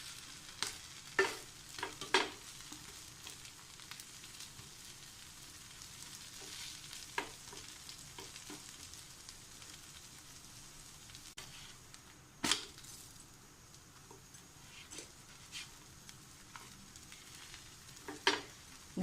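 A roast dosa sizzles quietly on a hot pan after being flipped, a low continuous hiss punctuated by scattered crackles and a few sharp scraping clicks of a spatula.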